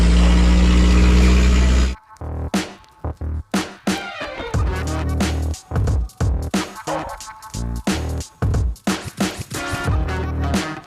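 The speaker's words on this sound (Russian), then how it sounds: "пикап так рычит" A pickup truck engine roars on a road in Thailand, opening with a loud steady drone, then breaking into a long run of uneven, punchy bursts and surges as it revs.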